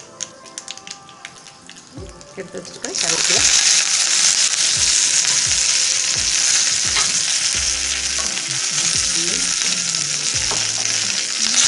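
Mustard seeds and spices for chow chow kootu hit hot oil with a sudden loud sizzle that keeps crackling and hissing steadily, after a few quieter kitchen clinks.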